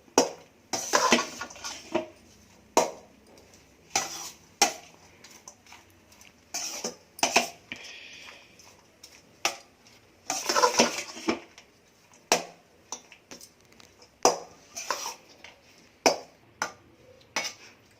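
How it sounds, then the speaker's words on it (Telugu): Spoon mixing vangi bath, a spiced brinjal rice dish, in a metal pot, a long run of close, repeated knocks and scrapes against the pot's sides, some strokes louder, with no voices. "వేసి అంతా బాగా కలపాలి ఒకసారి."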